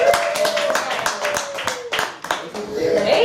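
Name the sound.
audience clapping hands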